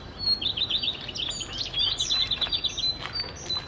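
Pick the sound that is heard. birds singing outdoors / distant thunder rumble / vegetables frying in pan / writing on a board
birds singing outdoors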